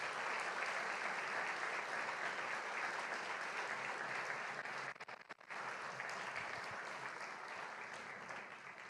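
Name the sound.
audience applause in church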